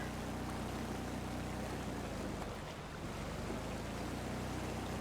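A small boat puttering along the water's edge in a horror fishing game, its low steady engine drone continuous beneath wind and lapping waves, with no voices.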